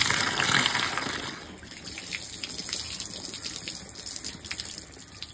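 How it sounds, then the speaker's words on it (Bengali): Tap water gushing steadily while leafy greens are washed in a kitchen, a loud continuous splashing stream with light clatter from handling the leaves. "এই যে শাকটা ধুয়ে পরিষ্কার করে নিয়েছি"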